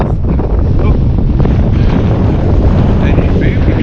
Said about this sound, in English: the wind has picked up and there's big swells